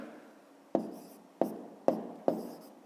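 A pen writes numbers by hand on paper in a quiet room, with about five crisp tapping strokes at a steady rhythm, each followed by a short scratching trail.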